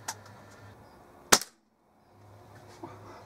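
A single sharp crack from a Weihrauch HW97 spring air rifle with a replaced spring, fired outdoors on a cold day, loud and close, followed by a brief hush and faint ambient noise.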